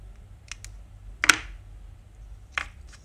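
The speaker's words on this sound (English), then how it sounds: "Now I cut the extra" Wire cutters snipping the extra leads on an AlphaTroniks 555 DC motor speed control kit, a few sharp, close clicks spaced apart, one louder than the rest, in a quiet room.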